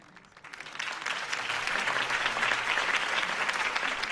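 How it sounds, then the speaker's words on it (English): A crowd applauds in the video game Batman: The Telltale Series after a mayoral campaign speech, the clapping swelling quickly and holding as a dense, steady wash of hands. "could have heard that applause"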